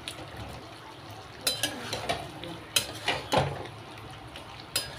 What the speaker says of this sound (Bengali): এই সময় আমি এতে মিশিয়ে দেব আগের থেকে ভেজে রাখা এই সম্পূর্ণ আলুগুলো।